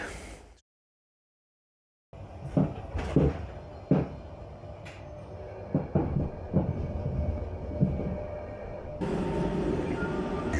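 Rumbling railway noise with rhythmic clanks and clicks as a train rolls in, steady and fairly close, with no talking.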